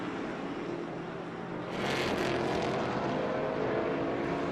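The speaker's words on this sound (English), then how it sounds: "The drone's getting closer." A camera drone flies closer over a race track at Watkins Glen during a vintage race, its steady whirring hum swelling louder midway and holding strong against a continuous engine background.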